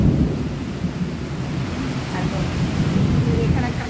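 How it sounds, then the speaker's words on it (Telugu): Heavy rain pours down in a sudden thunderstorm, a dense loud wash of rainfall with deep rumbling thunder rolling underneath, steady and close throughout. "చాలా పెద్ద వాన వస్తుందండి."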